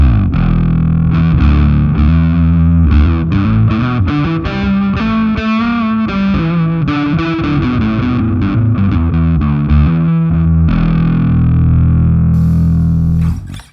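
Fuzz-driven bass tone from an electric guitar routed through a Helix HX Stomp, a long, continuous riff of thick, distorted low notes played briskly and loudly, close up, ending abruptly.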